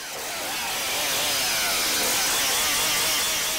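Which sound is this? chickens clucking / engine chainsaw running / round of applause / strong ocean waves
engine chainsaw running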